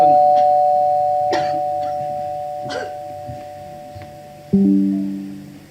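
A house doorbell rings with a bright sustained chime that slowly fades, a few faint knocks or taps underneath, then a second chime strikes near the end, loud and close.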